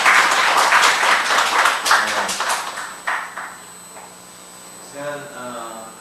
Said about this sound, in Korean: 우리 하나님 박수 한번 더 영광을 드립니다.